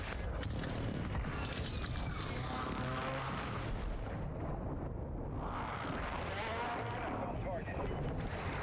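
Artillery strike from a called-in fire mission in the video game Warzone 2, heard as a dense, sustained barrage of rumbling booms and blasts across the whole stretch, with radio-style voices over it.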